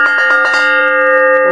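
An antique early-1900s Ludwig & Ludwig theatrical bell plate rings out loud and close, a few quick strikes at the start blooming into a sustained, shimmering metallic tone that imitates a church bell and rings on alone.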